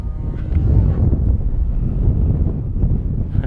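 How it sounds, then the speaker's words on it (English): Wind buffets the microphone at an RC model flying field, a steady, dense low rumble that fills the whole stretch without letup. "Wind's blowing now."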